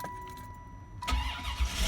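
Car engine starting after a pass key fix: a quiet electronic tone, then the starter cranks and the engine catches into a loud, rough idle close by.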